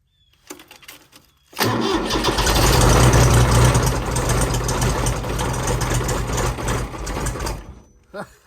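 A Kubota B7200 subcompact tractor's diesel engine cranks over and catches on a cold start in 15-degree weather, then settles into a loud, steady, close idle with a low rhythmic thump.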